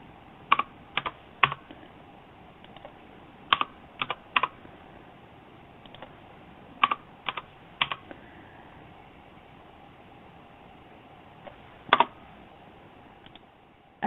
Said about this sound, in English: I can just quickly type in my percentages.